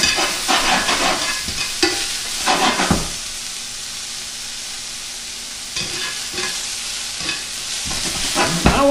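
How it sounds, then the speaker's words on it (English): Foraged mushrooms sear in hot oil in a pan, sizzling steadily while tongs shift them around, with bursts of louder frying and clatter between quieter stretches of steady hiss. "I'm just gonna move them around a little bit. Just trying to make sure I'm searing them in a couple different places."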